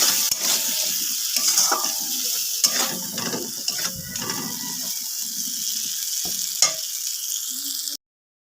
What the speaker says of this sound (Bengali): মশলাটা এবার আমি খুব ভালো করে কষিয়ে নেব।